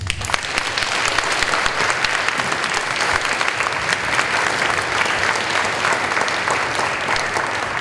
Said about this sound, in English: if you would please give her a round of applause